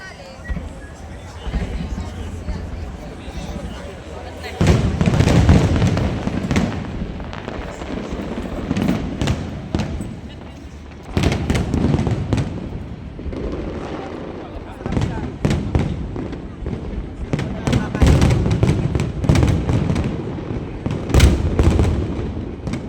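Fireworks bursting at the Pattaya fireworks festival in Thailand, repeated booms and crackling volleys heard from a crowd, with people talking and chatter beneath the explosions.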